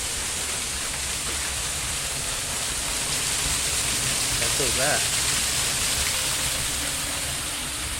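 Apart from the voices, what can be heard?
Byfield's little waterfall flowing down a rock gully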